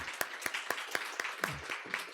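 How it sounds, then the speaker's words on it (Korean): A church congregation at a Sunday worship service gives encouraging applause, heard as a sparse set of distinct claps in a loose rhythm, fairly quiet and with a short voiced sound near the middle. "우리 수고 많았다고 격려 박수 한 드릴까요?"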